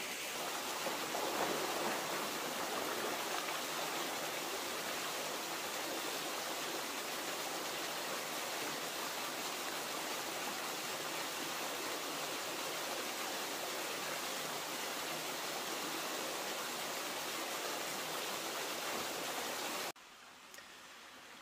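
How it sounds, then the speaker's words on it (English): Steady broadband rushing of a waterfall, filling the whole scene without pause until it drops away abruptly near the end. "you can hear it in the background, the falls are still there"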